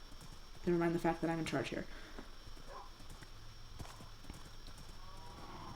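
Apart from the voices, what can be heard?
horse hooves and neighing in Minecraft video game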